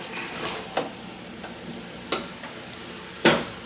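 Picadillo simmers in a pan with a faint steady sizzle, broken by a few sharp scrapes and clinks of a spoon stirring the mixture at irregular intervals.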